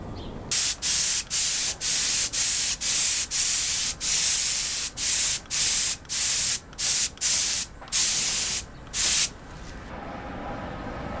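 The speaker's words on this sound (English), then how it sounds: "lightly sand it just till you see whatever's coming through" Sandpaper rubs in quick, regular back-and-forth strokes over a painted crack repair, about a dozen loud, close scratchy passes with short gaps between them, then stopping near the end.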